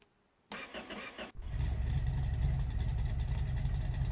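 A car engine cranks briefly, then catches and settles into a steady, rumbling idle, heard close up with no talking.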